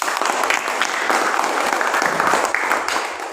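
A classroom of students applauds together during a lesson in Kupang, dense overlapping claps sustained at moderate loudness without a break.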